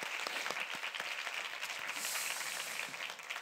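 Enthusiastic applause from a church congregation during a Sunday service, many hands clapping steadily throughout, fairly distant and even.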